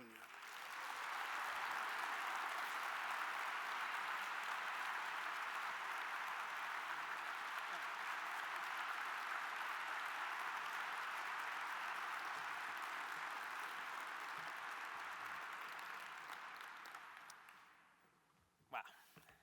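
Sustained audience applause fills an award ceremony hall, a dense, steady roar of clapping from a large crowd that holds for about seventeen seconds before tapering off into near silence.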